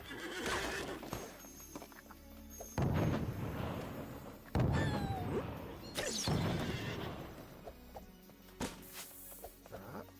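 Horse neighs and whinnies ring out in bursts over a busy Disney Infinity 3.0 game soundscape, with clip-clop hooves and occasional thuds in between.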